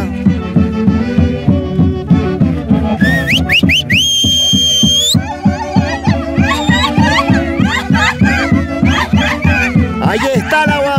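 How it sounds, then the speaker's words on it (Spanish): Shrill whistling by people at a Santiago festival celebration in Peru, sharp rising whistles riding over loud rhythmic festive music with steady drumbeats, close and prominent. "esa silbadita de los santiagueros"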